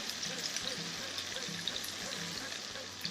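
Water pours into a cooking pan while platano con salami with salchichon is being made. It is a faint, steady trickle under low background noise.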